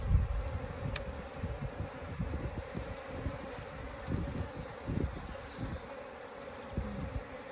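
Honeybees buzzing around an open hive during an inspection, a continuous close, dense hum with rustling and handling noises throughout.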